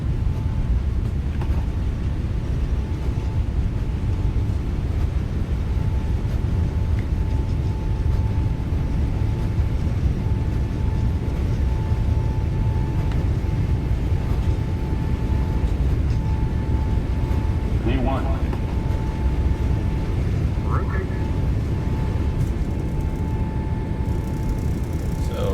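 A Boeing 777's engines roar steadily at takeoff thrust in the PMDG 777 flight simulator on a Lufthansa Cargo flight out of Hong Kong. The dense, even rumble holds at the same level throughout, with faint tonal whines on top.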